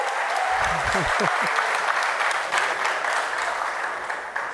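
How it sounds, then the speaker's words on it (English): A crowd at an outdoor political public meeting applauds steadily and loudly, the dense clapping continuing throughout while a voice briefly speaks over it early on. "Ladies and gentlemen, another round of applause, please, for the next Prime Minister of Trinidad and Tobago."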